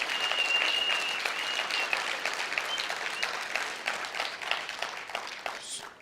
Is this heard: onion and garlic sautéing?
no